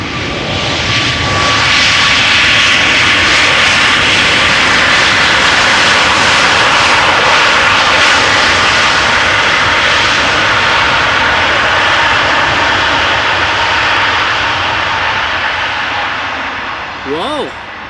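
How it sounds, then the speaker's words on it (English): Aircraft thrust reversers roaring at Amsterdam Schiphol Airport: a loud, sustained broadband roar that holds steady for most of the stretch before easing off, with a faint chirp at the end. "Was that testing the thrust reversers? They did sure make a lot of noise."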